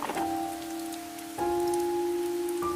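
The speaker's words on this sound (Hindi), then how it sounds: "फिर से तेज बारिश शुरू हो गई" Heavy rain pours steadily as a sound effect in a horror story, a dense continuous hiss with a low sustained droning tone underneath that shifts slightly in pitch twice.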